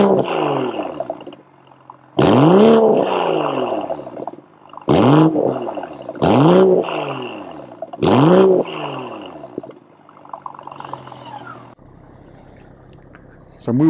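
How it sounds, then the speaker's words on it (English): A 2023 BMW M340i xDrive LCI with M Performance exhaust does a warm startup and repeated revs: a loud ignition burst, then several sharp rising-and-falling engine blips separated by idle, a final rev trailing into a quieter burble. "I'll insert the warm startup and revs right now."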